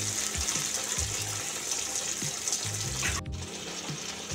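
A small amount of water poured into a cooking pot with fish and spice paste on a low gas flame, a continuous close splashing rush that cuts off abruptly near the end.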